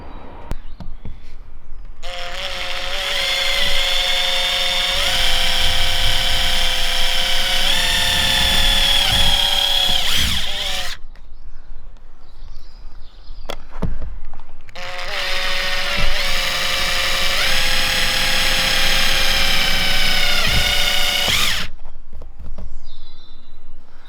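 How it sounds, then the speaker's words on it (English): A power drill bores pilot holes into wood while a Maxxair roof fan is fitted in a Fiat Ducato campervan conversion. Two long, loud, close whining runs of several seconds each are separated by a short quiet gap. "I'm going to come back up and do the pilot holes"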